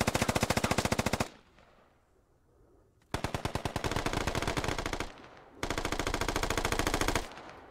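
Turret machine gun fire in a squad shooter video game rips out in three long, loud, rapid bursts separated by short pauses of quiet.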